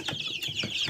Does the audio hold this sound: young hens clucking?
yes